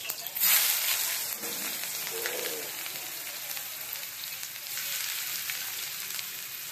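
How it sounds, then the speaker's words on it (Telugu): Onions sizzle in hot oil for a chicken curry, a steady bright frying hiss with small crackles that runs throughout at moderate loudness. "నూనె వేడి చేసుకొని ఉల్లిగడ్డ వేసుకొని"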